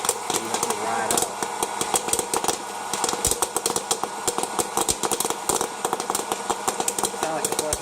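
A hot-air popcorn popper roars steadily while corn kernels burst inside it in rapid, irregular pops under the blower noise.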